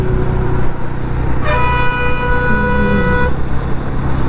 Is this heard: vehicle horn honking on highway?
yes